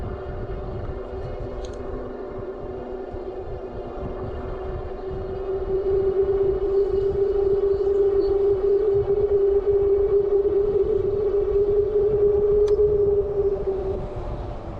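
A Tesway X5 Pro e-bike climbs a hill under throttle, giving a steady electric motor whine that rises and strengthens midway, over constant low wind rumble with no talking.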